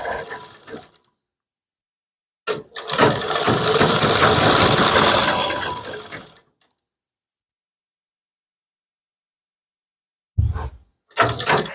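A sewing machine stitches a kurti lining in short bursts: a brief run, a steadier four-second whir, then two quick runs near the end, separated by silence.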